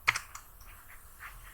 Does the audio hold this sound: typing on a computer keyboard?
yes